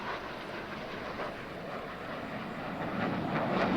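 Blue Angels jet aircraft roaring past during a roll at an air show practice, a steady broadband rush that swells louder toward the end, with no voices.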